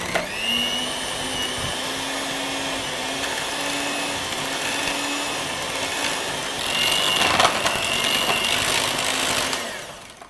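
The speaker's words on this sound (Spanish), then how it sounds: "Y ahora vamos a batir hasta que tengamos una mezcla totalmente integrada." An electric mixer beating Nutella hazelnut cookie dough whirs steadily and loudly throughout with a high motor whine and gritty scraping that swells briefly near the end.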